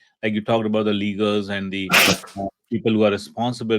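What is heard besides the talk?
a person sneezing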